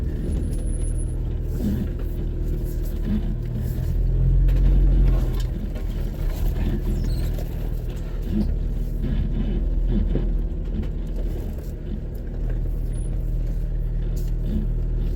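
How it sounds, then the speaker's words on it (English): A car engine roars under hard throttle while the vehicle turns sharply along a ridge, a heavy low rumble that swells and stays loud with wind buffeting the microphone. "I'm pressing the gas. Hard, hard, hard, hard."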